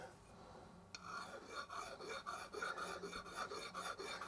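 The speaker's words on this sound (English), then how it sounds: "I'm just going to go over one more time with a very fine file to make sure the outer rim is nice and smooth" A very fine file rasps across the outer rim of a hand-made sword guard (tsuba), steady repeated strokes up close in a quiet workshop, beginning faintly and growing stronger after the first second.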